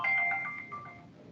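A phone ringtone plays a bright repeating electronic melody, loud and close, fading slightly over its short span with no talking.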